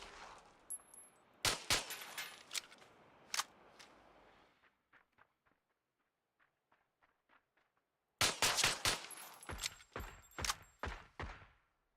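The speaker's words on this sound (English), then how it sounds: "I'm shooting here to try to get the enemy" Gunfire in the PUBG video game comes as sharp, loud bursts of shots in quick succession, then a stretch of fainter distant single shots, before another dense close volley erupts.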